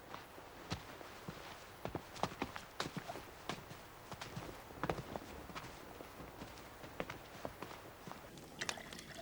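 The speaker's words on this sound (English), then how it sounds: "The portress said she heard horses." Horses' hooves clop toward the listener in an uneven, quickening rhythm of sharp strikes at a medieval abbey setting, fairly quiet and with no talking over them.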